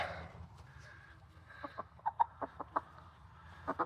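Hens clucking in a series of short, close, moderately loud calls, clustered toward the end during wing clipping of backyard chickens, with no talk over them.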